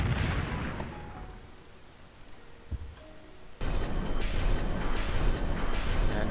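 Artillery bombardment in the strategy game Civilization III: a distant explosive thud, then a sudden loud burst of heavy rumbling fire that rolls on steadily to the end.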